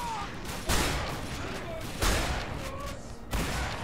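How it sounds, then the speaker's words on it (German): Three shotgun blasts from The Darkness 2 video game ring out at roughly even spacing, each a sharp loud crack with a short decaying tail, over background game noise. "Guck mal, was ich für eine Shotgun hab, Alter."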